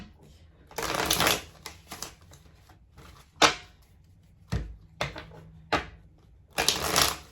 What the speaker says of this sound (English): Get a couple shuffles here.